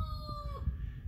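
A rooster crows once, somewhat distant, over steady low wind rumble outdoors.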